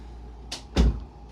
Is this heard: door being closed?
yes